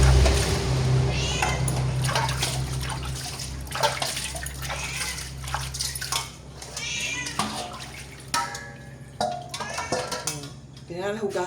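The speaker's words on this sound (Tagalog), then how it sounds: "Kailangan hugasan gid iyang kan-anan" A cat's food dish being washed under running water, with clinks of the bowl and splashing, while a cat meows repeatedly nearby and a person talks intermittently.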